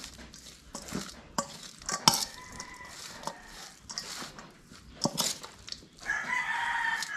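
Grated green papaya mixed with vinegar, softened and reddish, stirred by hand in a bowl for shrimp fritters, with repeated scraping and sloshing strokes, some sharp clinks and rooster crowing in the background.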